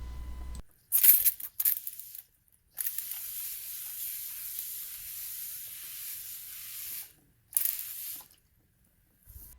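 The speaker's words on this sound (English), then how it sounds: "I'm going to go ahead and spray this down really well with the solution." Bursts of hissing spray from a STIHL SG 11 handheld pump sprayer, a few short squirts followed by a long steady spray and one more brief burst.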